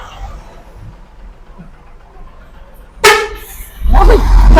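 A car horn gives a short loud honk, then a longer sustained blast at close range, following a quiet stretch of faint background noise, with voices around it.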